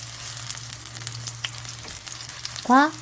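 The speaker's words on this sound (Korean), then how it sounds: "기름 넉넉히 두른 팬에 고추전을 넣었는데요" Korean chili pepper pancakes fry in a generously oiled pan, a steady soft sizzle with faint crackles throughout, ending in a brief rising squeal.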